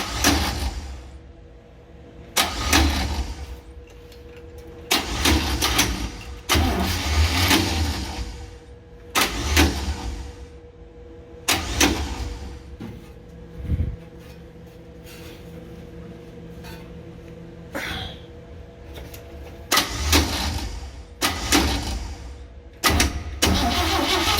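A 1966 Chevy van's starter cranks the engine in repeated bursts of a few seconds each, separated by pauses with a low steady hum, heard up close and fairly loud, without the engine clearly catching.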